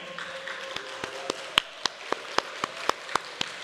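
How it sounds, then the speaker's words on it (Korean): Church congregation at a Sunday service gives welcoming applause for new members, sharp claps landing in an even, steady rhythm over a quiet room hum. "우리 환영의 박수 같이 할까요?"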